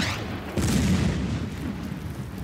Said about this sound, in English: That's artillery.